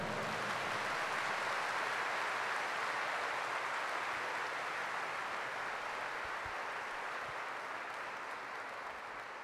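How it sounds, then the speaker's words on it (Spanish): Loud, sustained applause from a church congregation during a Mass of prayer for the sick, a dense wash of clapping filling the whole stretch with no speech over it. "Se sienta fuerte ese aplauso para el Señor."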